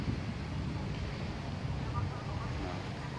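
Strong wind blows against a cream-coloured 4x3 metre Naturehike waterproof, UV-coated fly sheet at a Sriracha campsite. It makes a steady, loud, buffeting roar across the whole clip.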